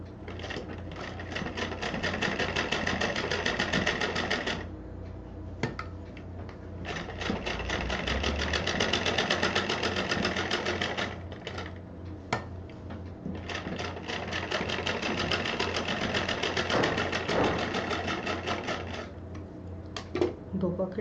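Sewing machine running in long stitching bursts while a purse pocket is sewn, three sustained runs separated by short pauses, steady and close, with a voice talking over it.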